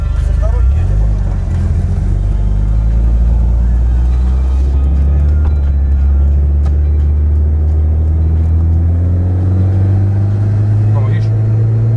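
Turbocharged Mitsubishi Airtrek pulling hard from second gear, a loud, steady engine drone rising in pitch as revs climb, heard from inside the car with people talking over it.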